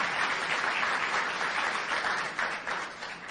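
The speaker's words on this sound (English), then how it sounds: "And a round of applause for those nominees for their accomplishments this year." An audience at a student athlete of the year banquet applauds the nominees, a steady dense wash of many hands clapping together throughout, fairly loud and sustained without a break.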